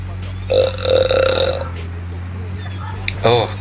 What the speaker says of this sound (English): God, that burp.